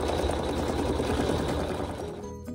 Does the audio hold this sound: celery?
no